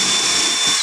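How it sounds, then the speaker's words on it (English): A power tool whirs steadily at high speed, loud and close, as it drives out a foot screw on a Peavey EVH 5150 guitar amplifier, with no voices. "Next we would take the 4 feet screws out"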